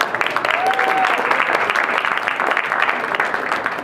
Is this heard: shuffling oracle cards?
no